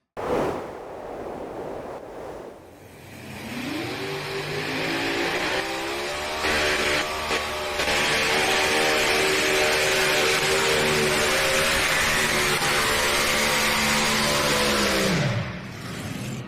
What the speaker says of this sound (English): Those 4 Minor Brothers Racing engines. Hemis absolutely screaming.